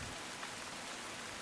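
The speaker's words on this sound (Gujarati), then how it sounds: "નવસારીમાં પણ મેઘો મુશળધાર વરસ્યો છે" Heavy monsoon rain pours down steadily in Navsari, a dense, even hiss of downpour on surfaces, with no voices.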